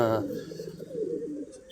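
Domestic pigeons coo in a sunlit loft, a low throaty burbling that rolls on steadily and close throughout, with several birds overlapping.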